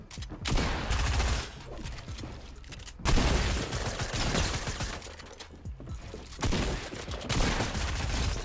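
Bursts of rapid gunfire in the video game Fortnite, dense loud volleys in three main waves separated by short gaps, with mechanical clicks between shots and no talk.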